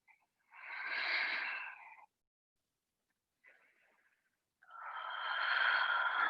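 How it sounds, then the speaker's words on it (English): Deep breathing during an outdoor hatha yoga flow: a long close exhale, a pause, a short faint breath, then another drawn-out airy breath. "Two more breaths."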